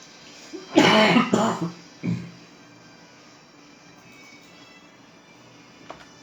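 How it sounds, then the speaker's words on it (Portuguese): A few harsh coughs burst out close by, followed by a shorter cough, then quiet with a faint click near the end. "Eu desligo para tossir, mas eu esqueço que não tem como."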